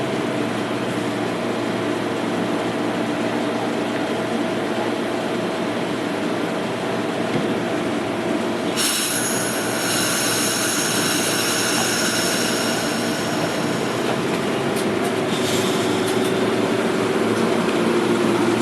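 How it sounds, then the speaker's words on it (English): Amtrak train at Aberdeen station, heard as a steady loud rumble of rail traffic with a sharp shift to brighter hiss and tonal whine about halfway through as the train gets moving, continuing to the end. "Nearby Aberdeen station, where an Amtrak is stopped and about to depart."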